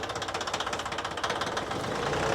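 A small Yanmar 1801 tractor engine, weighing about 750-800 kg, runs close by with a rapid, even chugging pulse and a slight knocking rattle.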